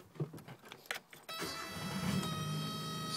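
A Suzuki Samurai JX hardtop has its key turned and its engine cranks and catches after a few clicks, settling into a steady close idle rumble.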